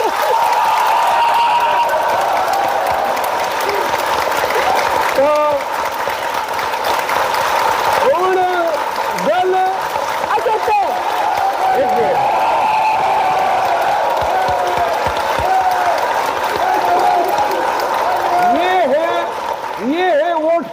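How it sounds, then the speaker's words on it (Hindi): A crowd at a PTI political gathering claps and cheers, a continuous wash of applause with loud voices shouting over it throughout. "PTI के लिए तालियां तो होनी चाहिए।"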